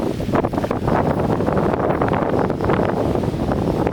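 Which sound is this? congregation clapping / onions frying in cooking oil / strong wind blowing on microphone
strong wind blowing on microphone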